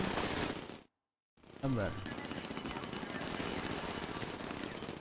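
Gunfire in a biker-versus-everyone roleplay video game: dense, rapid automatic bursts fill the clip, cut by a brief silent gap, then resume continuously with a short spoken word over the shooting.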